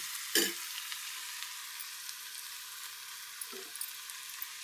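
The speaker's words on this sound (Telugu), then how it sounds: "కూరకు సరిపడే ఉప్పు, పసుపు వేసి బాగా కలుపుదాం" Steady frying sizzle of cucumber curry as salt and turmeric are stirred in, with two brief scraping stir knocks over a constant hiss.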